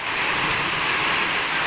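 Heavy rain pours down steadily in a broad, continuous hiss over a flooding residential block, loud and unbroken with no voices.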